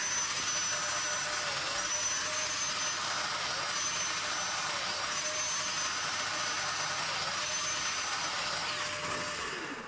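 A domino joiner plunges 5x30mm mortises into the angled ends of wooden stool rails and legs, a steady high whine running the whole time with slight dips in pitch as each cut is made, with no one speaking.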